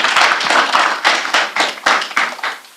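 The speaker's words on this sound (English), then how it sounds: "Another round of applause as she gets off stage." Scattered clapping from a small audience as a speaker leaves the stage at a youth climate summit, loose uneven claps building briefly and then fading away at the end.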